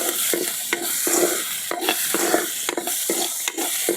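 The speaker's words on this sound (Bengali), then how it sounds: "দিয়ে সুন্দর করে লালচে করে আগে ভেজে নেব" Crushed onion, ginger and garlic fry in a pan for a dried-fish lentil dish, a steady sizzle broken by repeated scraping stirs at a fairly regular pace, close and clear with no talk.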